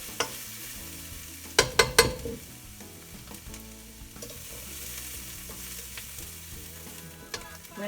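Vegetables sizzle in a frying pan for fried rice, under a low, steady crackle. A cluster of sharp clatters and scrapes from stirring comes near the start, then quieter stirring noises follow.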